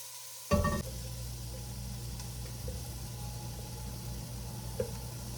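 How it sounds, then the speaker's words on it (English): Vegetables for homemade pasta sauce start sizzling as they hit a hot pan, a brief loud burst settling into a steady, quiet frying hiss with faint stirring clinks. "You're just going to saute it."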